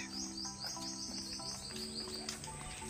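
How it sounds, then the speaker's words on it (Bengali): Forest birds chirp and tweet in quick, overlapping high calls with a steady insect drone beneath, a lively chorus heard at moderate distance near the India-Bangladesh border at Taki. "এই পাখিদের কলরব শুনতে কিন্তু খুব বেশ ভালোই লাগছে"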